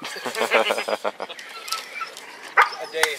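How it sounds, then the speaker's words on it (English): A dog barks excitedly in the background at an outdoor bow drill class gathering, a quick run of yaps near the start followed by scattered sharper barks, with people talking nearby. "And my dog's going crazy in the background."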